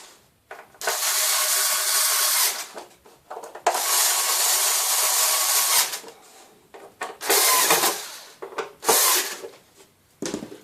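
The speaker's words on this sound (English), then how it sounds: "now I've just got to screw them home" A power driver sends screws into a wooden cable winding reel in several close bursts of loud whirring, each lasting one to two seconds, with short pauses and small handling clicks between them.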